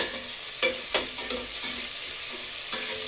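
Sliced onions fry in hot oil in a pan for tomato rice, a constant close sizzle broken by several sharp scrapes and clanks of a spatula stirring, with no voices.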